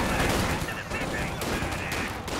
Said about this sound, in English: Why is there so many machine guns?